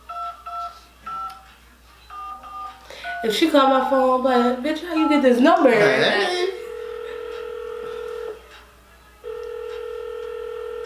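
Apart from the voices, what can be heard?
telephone dialing and ringing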